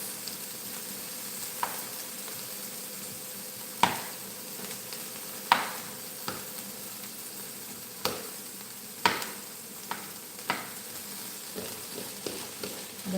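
Vegetables caramelizing in a hot pan give a steady sizzle with a low background hum, broken by sharp clinks and scrapes of stirring at irregular intervals.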